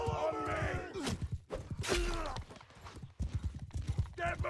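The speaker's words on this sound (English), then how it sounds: "We got one horse." Horse hooves in Mount & Blade II: Bannerlord multiplayer, a rhythmic clip-clop of galloping hooves with a whinny, heard through a player's talking and a sigh.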